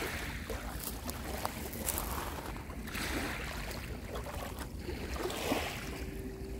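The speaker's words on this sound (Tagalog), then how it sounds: "Alon." Sea waves washing against a rocky shore, a steady faint wash of water and wind with no speech.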